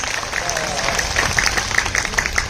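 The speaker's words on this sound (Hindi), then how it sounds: "तो अगर ये पक्का संकल्प है तो जोरदार ताली बजा दे एक बार खुद के" An audience at a happiness and stress-relief programme claps loudly together, a dense run of applause that builds and stays strong through the moment.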